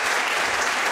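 Dense, loud applause from an audience at a merengue music event, a continuous wash of many hands clapping at close range with no gaps.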